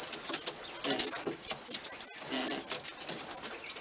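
A young pigeon that cannot yet fly well flaps its wings in bursts and gives soft coos, close by, with brief bird calls scattered between the flurries.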